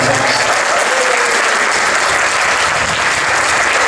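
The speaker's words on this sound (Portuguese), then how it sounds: "Palmas." An audience at a country music gathering applauds loudly and continuously, the dense clapping close and unbroken for the whole stretch.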